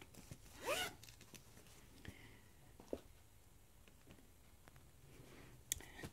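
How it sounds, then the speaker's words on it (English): A zipper on a small felt pouch pulled in one quick rasping stroke, faint and close, followed by a few soft clicks and handling sounds in a quiet room. "It's a felt pouch, zips up"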